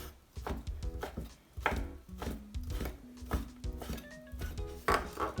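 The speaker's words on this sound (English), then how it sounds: "So I'm gonna cut the ham in half" A knife slices ham into strips on a cutting board in a home kitchen, making a series of close, moderately quiet taps and chops at an uneven pace, with no talking.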